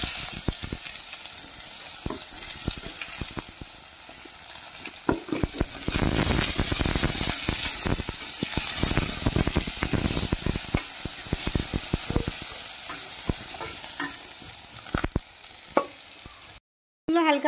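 Chopped onion sizzles steadily in a pan for ghagot fish and potato dal, with a loud hiss and scattered scraping stir sounds throughout, briefly cutting to near silence near the end.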